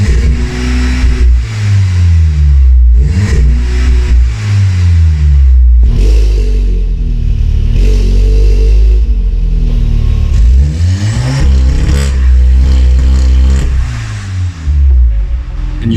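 A modified Volkswagen Golf 7R fitted with an aftermarket downpipe revs and accelerates hard, its loud, rumbling engine rising and falling through repeated gear pulls from inside the car.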